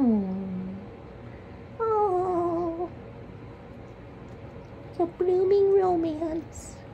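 A house cat gives several drawn-out meows with pauses between them, close by, while a person softly calls to it.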